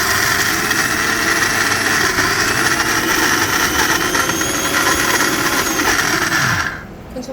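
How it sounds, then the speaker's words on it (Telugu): A kitchen mixer grinder whirs loudly while blending peanut chutney in its jar, a steady, close motor drone with grinding rattle that runs unbroken for several seconds and then cuts off abruptly near the end. "ఇప్పుడు మిక్సీ వేసేసుకున్నాము."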